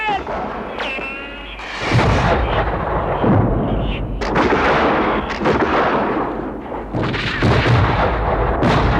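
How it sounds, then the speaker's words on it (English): Cannons boom in a movie battle scene at an 18th-century fort under British attack, with heavy repeated blasts and rumbling explosions mixed with shouting voices and loud battle commotion throughout. "Fire the cannons!"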